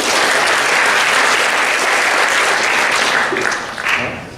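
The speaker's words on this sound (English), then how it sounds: "let's give them one more round of applause" Sustained applause from an audience at a high school athletic banquet, a dense steady roar of many hands clapping that fades slightly near the end.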